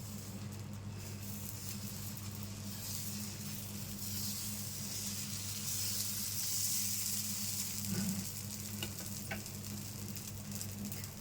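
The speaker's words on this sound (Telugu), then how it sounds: "పైన ఒకటి పెట్టుకొని దోశ వేసుకున్నాం" Minapa dosa batter (black gram) sizzles steadily on a hot pan, a soft continuous crackle with a few faint ticks, held at an even level throughout with no talking.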